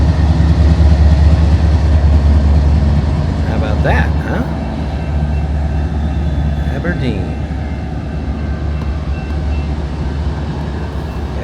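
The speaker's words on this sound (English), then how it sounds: "And there's a train going by." A train rolls through the middle of the small town of Aberdeen, South Dakota, beside an old depot, a loud continuous low rumble and clatter, with someone speaking briefly over it.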